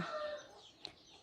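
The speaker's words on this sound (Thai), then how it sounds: "ตอนนี้นั่งอยู่ที่บ้านเนาะจะได้ยินเสียงนกเสียงไก่จิ๊บจุ๊บจิ๊บจิ๊บ" Chickens and a rooster cluck outside a house in a single short call, faint and somewhat distant against a soft outdoor background hiss.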